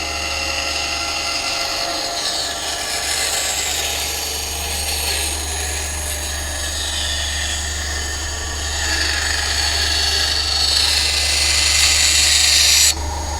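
An Einhell TC-SB 200/1 band saw cutting a curve in wood with a cheap replacement blade, a loud continuous motor whine and blade hum with a shop vacuum running, rising slightly in intensity before cutting off abruptly near the end.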